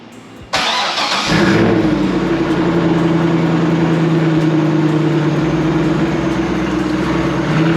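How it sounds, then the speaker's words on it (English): A Corvette engine fires up after a brief quiet moment and settles into a loud, rumbling idle close by, holding steady with a slight rise in revs. "I pulled the Corvette out"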